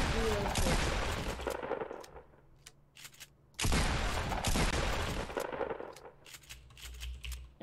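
A pump shotgun in a video game fires in loud, booming blasts, followed by quick reload clicks and weapon-switch sounds in a repeating shoot-reload-switch pattern, with a player's voice talking over the action.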